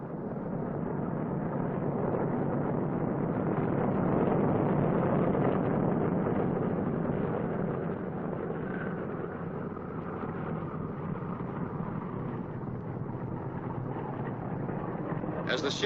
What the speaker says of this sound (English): Steer with the outboard engines, not the brakes.